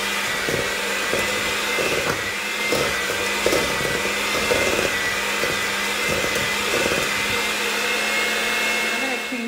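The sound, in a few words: electric mixer beating butter with sweeteners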